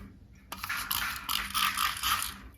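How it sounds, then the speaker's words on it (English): A handheld spray bottle mists water onto the back of watercolor paper, with a sharp click followed by several bursts of hissing spray close by. "I spray the back"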